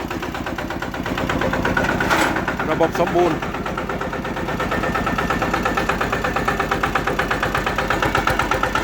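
A Kubota KRT 140 Plus diesel engine idles nearby with a steady, rhythmic knocking chug, while someone speaks briefly over it.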